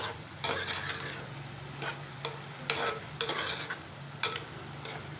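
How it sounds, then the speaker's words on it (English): Radish sabzi is stirred in a sizzling pan, a spoon scraping through the frying vegetables in several bursts over a steady background sizzle, close and moderately loud, with no talking. "Stir it well."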